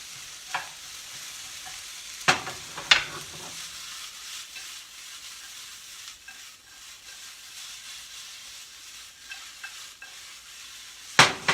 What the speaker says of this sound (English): you throw the garlic in at the very last minute because you don't want the garlic to brown